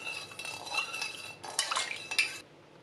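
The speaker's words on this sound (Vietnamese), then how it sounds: "Và quậy tan." Spoon stirring vinegar in a metal bowl to dissolve it, a run of scraping clinks and swirling strokes in close, uneven bursts before stopping.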